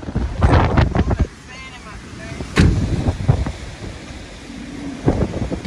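Strong gusting wind ahead of a rainy-season storm in Gambia, loud broadband rushing and buffeting against the microphone in repeated surges, with voices briefly audible between gusts.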